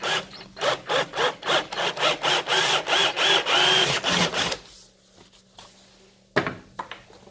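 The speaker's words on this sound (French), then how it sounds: "je vais prendre une perceuse et je vais faire un avant-trou" An electric drill bores a pilot hole in a wooden beam while a frame is made for it, with a rhythmic burst of repeated grinding pulses for several seconds, then it stops, followed by quieter handling knocks.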